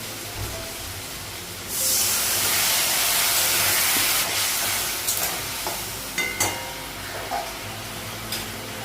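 Onion and spices frying in a pan in a home kitchen, a loud steady sizzle that bursts in and holds, broken by a few scraping stirs and clinks toward the end.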